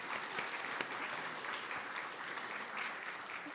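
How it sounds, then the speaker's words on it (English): An audience at a poetry award ceremony applauds steadily, a soft, distant wash of clapping that holds throughout. "We'll give them a round of applause"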